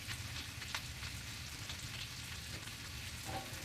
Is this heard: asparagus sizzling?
yes